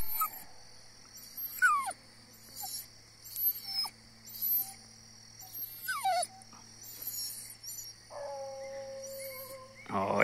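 Hunting dogs on a paca trail, whimpering and yipping in short high bursts spread across the clip, fairly faint over a steady background hum, with no talk.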